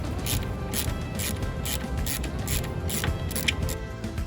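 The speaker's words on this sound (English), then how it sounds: "now we're going to need to get our Torx bit for here to remove these hinges" Torx bit in a ratchet turning out the rear door hinge bolts on a Jeep, a quiet, regular run of clicking ratchet strokes heard close up.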